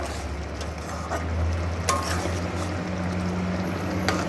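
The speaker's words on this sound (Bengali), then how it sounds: "এর মধ্যে দিয়ে দিচ্ছি ভেজে রাখা মোরলা মাছগুলো দিয়ে একটুখানি নাড়িয়ে" Fried mourola fish are stirred into a simmering curry gravy, with soft scraping of the spoon and a gentle bubbling sizzle throughout, close and fairly quiet.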